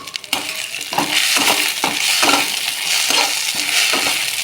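Taro leaf paste frying in a pan while being stirred continuously, loud close sizzling broken by regular scraping strokes of a spoon roughly every half second.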